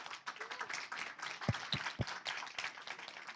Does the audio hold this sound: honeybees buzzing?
no